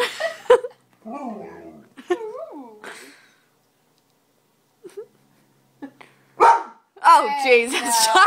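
A dog gives several loud, close barks and yelps in separate bursts with quiet gaps between them.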